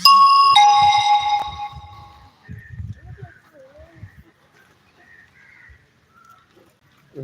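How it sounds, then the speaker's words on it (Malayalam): A car is locked, giving a bright, ringing electronic chime in the first second or so, followed by scattered soft low thuds and faint background sounds that fade toward quiet. "ഞാൻ വണ്ടി ഒന്ന് ലോക്ക് ചെയ്യാൻ വേണ്ടി നിൽക്കാം കേട്ടോ"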